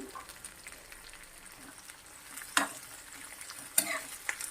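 Onion and green chili tempering frying in a pan for jeera rice, a soft continuous sizzle with a few sharp utensil clinks and scrapes standing out, no speech.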